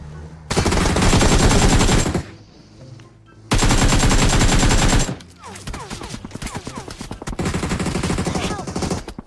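Heavy automatic gunfire in a BGMI mobile battle royale firefight, loud sustained bursts of rapid shots in two long blocks separated by brief pauses, followed by sparser, lighter shots toward the end.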